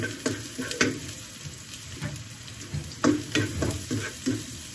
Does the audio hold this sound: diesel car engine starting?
no